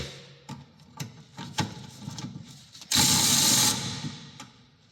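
Ratchet clicks from a 13mm socket working on the brakes of a Jaguar X-Type estate, sharp mechanical ticks spaced irregularly, then a loud burst of harsh noise in the middle, close and with no talking.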